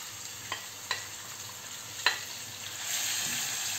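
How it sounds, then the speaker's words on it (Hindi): Chicken frying in oil with garlic paste for a chicken vegetable soup, a soft continuous sizzle with a few sharp utensil clicks against the pan, the hiss swelling louder near the end, with no talking. "साथ में ही चिकन डाल देंगे फ्राई करने के लिए।"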